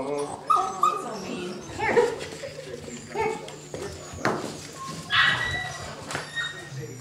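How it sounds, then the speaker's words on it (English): Several small puppies yip, whimper and bark aggressively in an indoor setting, with high-pitched bursts scattered irregularly over background noise and some human voices mixed in. "such small puppies can have the level of aggression that you're about to see"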